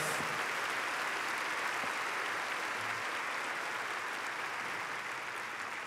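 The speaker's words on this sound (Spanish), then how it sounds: "Ahora dale un fuerte aplauso al Señor." A church congregation claps for the Lord in a steady, dense wash of applause that fills the room at moderate loudness from start to finish, with no voices rising above it.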